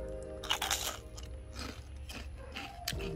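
Crispy salmon fish skin crunches up close as someone bites and chews it, a few loud brittle cracks followed by softer crackling chews against a low background hum, without any talking.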